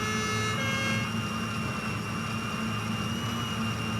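A vehicle siren in the video game Satisfactory wails steadily and loud, a continuous tone held for the full stretch, layered over a dense engine-like drone with no talking.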